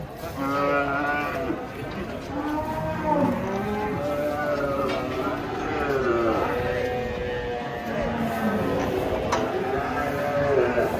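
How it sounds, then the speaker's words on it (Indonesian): Cattle moo repeatedly while being unloaded from a truck, several long, loud calls overlapping one another at close range, with people talking throughout. "Kedatangan sapi galak, guys."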